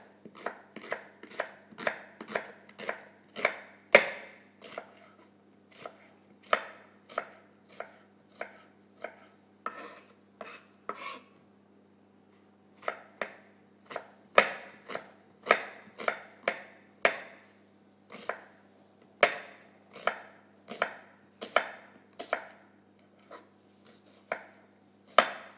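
A knife cuts onions into wedges on a board, a rapid series of sharp, close chops in bursts with brief pauses between runs.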